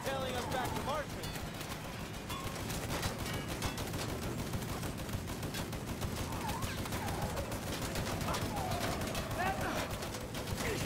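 Dense, sustained gunfire from a Mafia III firefight, rapid automatic bursts and shots layered continuously with no letup, loud and close throughout.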